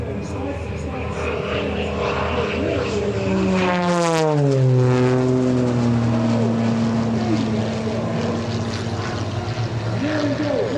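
An aerobatic propeller airplane at an airshow drones loudly overhead, its engine pitch sweeping down sharply as it passes close by, then a steady buzzing as it flies on.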